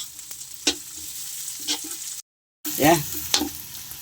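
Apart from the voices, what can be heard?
onions sautéing in a pan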